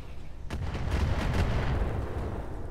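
Crapapult mech weapon in Roguetech lets off a single sharp report, followed by a rolling, rumbling boom that lingers and slowly decays, loud with no voices.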